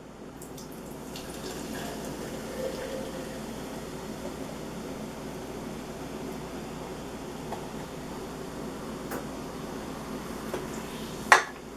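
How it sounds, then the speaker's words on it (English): Mountain Dew is poured into a glass, giving a faint, continuous liquid splash and soft fizz at close range. A sharp little clink comes near the end, with no talking. "You pour your Mountain Dew"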